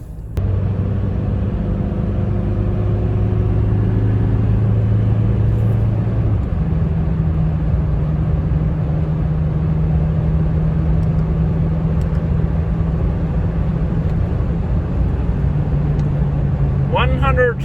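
Toyota Hilux 2.4 diesel pickup driving at road speed, a loud steady engine drone and road rumble heard from inside the cab, with a low tone shifting partway through.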